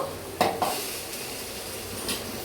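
Vegetables frying in a pan for a chutney, a faint steady sizzle with a couple of brief utensil clinks and stirring scrapes near the start.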